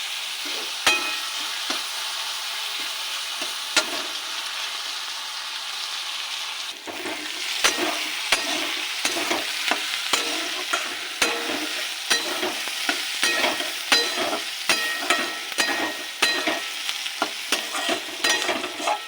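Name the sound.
chopped onion and chilli frying in oil, stirred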